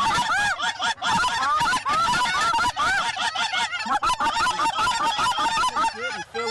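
A loud, dense chorus of geese honks continuously and close by on a Texas pond, many birds calling over one another in rapid overlapping bursts.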